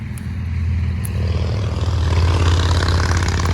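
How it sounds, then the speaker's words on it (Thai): Loud motorcycle or small vehicle engine fitted with a modified, loud exhaust pipe, a steady deep rumbling drone that builds slightly and stays close throughout, with no talking. "ใส่ทอเสียงดังแท้ ดังกว่าใครเพื่อนเลยนะ"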